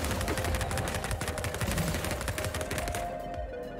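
Rapid automatic gunfire from an enemy's launcher arm in a first-person shooter, a loud continuous burst of close shots that rattles on for about three seconds before cutting off into a quieter tail.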